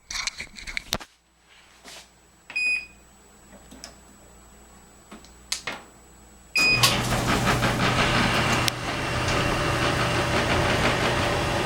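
A repaired clothes dryer that previously would not spin starts up after a few clicks and knocks, then runs steadily with a loud, continuous rumbling hum and whir close by, with no talking.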